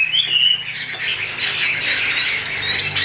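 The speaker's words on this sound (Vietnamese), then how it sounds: "Ôi, các bác nhìn này, chim nó hot này." A caged hwamei songbird at a bird market in Vietnam's northwest highlands sings loudly and close by in rapid, varied whistling phrases that run continuously without pause or talk.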